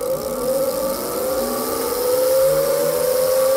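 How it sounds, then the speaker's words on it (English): A FlyKly Smart Wheel electric bicycle hub motor whirs steadily up close, its tone rising slightly in pitch as the bike gathers speed while being ridden. "whenever you start pedaling, the motor turns on, and whenever you stop pedaling, the motor turns off"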